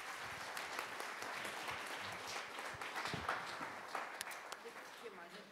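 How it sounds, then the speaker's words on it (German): Faint audience applause at a panel discussion on the future of sheltered workshops, scattered claps blending into a soft murmuring crowd, with voices talking underneath. "Applaus für Iris Hermes"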